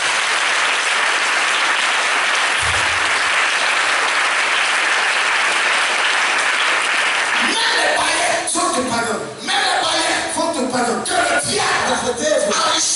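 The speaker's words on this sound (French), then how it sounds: "Acclamez le Seigneur" A church congregation applauds the Lord in loud, sustained applause that fills the space, giving way to a preacher's voice and crowd noise over the last few seconds.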